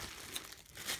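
Plastic bag wrapped around a block of prepared black clay crinkles and rustles close up, in soft irregular bursts with a brighter crackle near the end.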